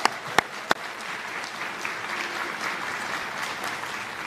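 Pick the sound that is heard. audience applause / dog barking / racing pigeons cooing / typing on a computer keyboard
audience applause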